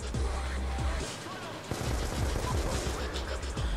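Rapid shotgun fire in Black Ops 2, loud and repeated in quick succession, with a Spanish-speaking voice talking over the shooting.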